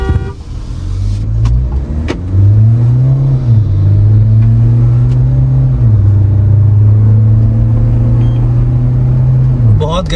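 A Mahindra Scorpio N launching in a drag race: the engine note climbs through gear changes with steady rising whines, loud and close inside the cabin, while people talk over it.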